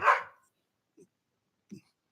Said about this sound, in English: Your dog's getting mad about this.